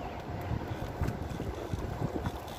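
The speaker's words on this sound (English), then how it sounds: "Wind is too hard there." Wind gusts across a small fishing boat out on open water under darkening clouds, a steady rough buffeting roar against the microphone with low thumping rumbles and no voices.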